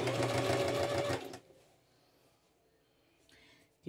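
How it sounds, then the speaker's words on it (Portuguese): A domestic sewing machine stitches fabric for a bra cup cover in one loud, steady whirring run of about a second, then stops, leaving quiet handling noise behind. "E vou costurar, ó."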